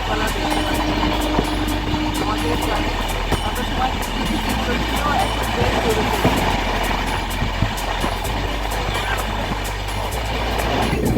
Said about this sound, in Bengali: দেখো এখন ট্রেনটা দুরন্ত গতিতে চলেছে